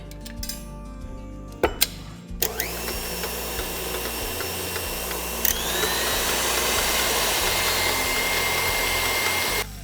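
An electric mixer whips carrot walnut cake batter, starting after a few clatters and knocks and then settling into a loud, steady motor whine that rises slightly in pitch partway through.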